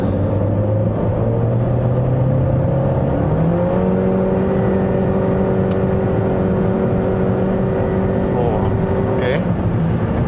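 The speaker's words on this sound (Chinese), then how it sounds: "在加速的时候就比较明显可以听到那个引擎声" A 2022 Honda HR-V Turbo accelerates on a road in light drizzle, its engine a loud, steady drone from inside the cabin that climbs smoothly in pitch, with a voice faintly underneath.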